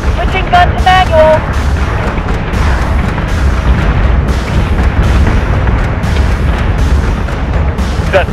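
Battlestar guns firing in the Battlestar Galactica Deadlock space combat game: a dense, continuous barrage of booming shots rolls on without a break, loud and close, with a brief electronic tone early on.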